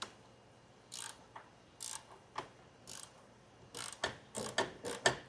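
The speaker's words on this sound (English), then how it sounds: "We got a ratcheting 16 millimeter wrench on the top and a 16 on the bottom to hold it in place." A ratcheting 16 mm wrench turns a bolt during a Jeep Wrangler JK Rubicon front lift install, giving quiet, close bursts of clicking that start sparse and speed up toward the end, with no voices.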